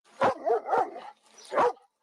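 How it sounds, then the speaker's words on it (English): A police dog barks three times in quick succession during a traffic stop, the barks loud and close with a short gap before the last one, and no one speaks. "The canine officer gets his police dog, Barrett."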